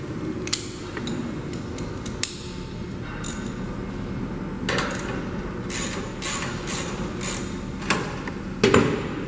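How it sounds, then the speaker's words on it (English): Ratchet with a 1/2-inch socket and extension loosening a burner bolt on a Reverberray DSCS heater, close metallic clicks and knocks scattered over a steady background hum, with a louder clank near the end. "We're going to grab our 1/2-inch socket along with an extension and a ratchet."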